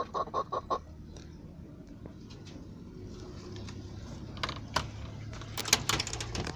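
Brahma and blue egg layer crossbreed hens with a bantam cochin in an enclosure after rain, giving soft scattered clucks and short calls at close range, with light rustling and mechanical clatter, no talk.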